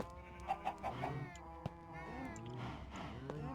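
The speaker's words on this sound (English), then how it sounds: "Come back, my chicken." Chicken clucks from Minecraft, Bedrock Edition 1.6.1, come in several quick calls near the start, mixed with a voice and steady game background sound.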